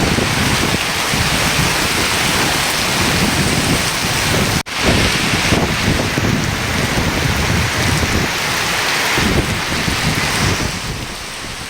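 Heavy rain pouring down during a thunderstorm in Karimnagar district, a loud dense steady roar of rain on surfaces with deep rumbling undertones and a brief sharp break partway through.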